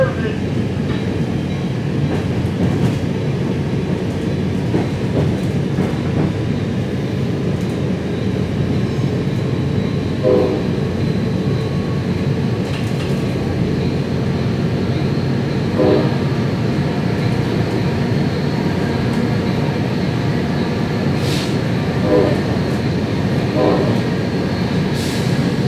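Loud, steady rumble of an onboard ride on a commuter passenger train hauled by a GP40FH-2 locomotive on New Jersey's Main Line, with faint rhythmic rail clicks and a voice speaking over it.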